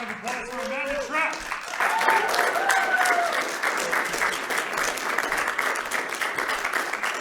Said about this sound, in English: Let's have another round of applause for Amanda Trapp